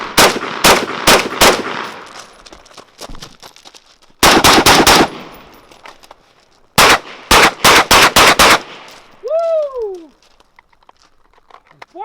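Rapid bursts of gunfire from a Tavor SAR rifle and a pistol on a shooting drill, loud sharp shots in quick clusters separated by brief pauses, with a few chirping bird calls near the end.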